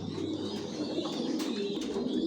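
Racer pigeons, breeding pairs kept in a loft, coo faintly and continuously in a low, murmuring drone.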